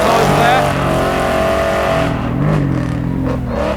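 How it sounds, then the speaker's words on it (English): A supercar on a race track revs hard with its rear wheels spinning, the loud engine roar rising and falling with tyre noise, close and dominant, fading slightly toward the end. "Just so much power in that, just spinning those rear wheels."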